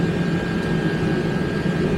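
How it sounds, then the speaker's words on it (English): A heater blows in a cold garage during a Ford 8.8 rear axle build, giving a steady, loud, roaring rush with a low rumble and a faint high whine, unbroken for the whole stretch. "Sorry about the noise. I got my heater going,"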